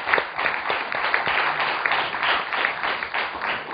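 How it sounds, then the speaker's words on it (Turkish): An audience at a Turkish folk music concert gives warm, continuous applause to two musicians, many hands clapping steadily at a moderate level with no talk over it. "Ama bu iki müzik emekçisine tekrar bir alkış almak istiyorum."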